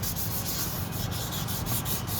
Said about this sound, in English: sander piece is going bad. It's going out.